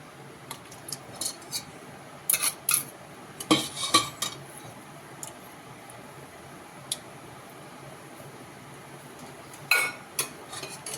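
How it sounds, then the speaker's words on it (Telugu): Milk, curd and oil are beaten together in a bowl, with bursts of quick clinking and scraping of a utensil against the bowl between quieter pauses, close and moderately loud. "ఇది వేసి మంచిగా మూడు మిక్స్ అయ్యే వరకు మంచిగా బీట్ చేసేసుకోండి"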